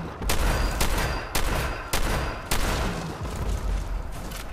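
Gunfire in Fallout 4, a rapid fusillade of loud, close shots with several sharp bursts punctuating a dense, continuous stream of firing and no talk over it.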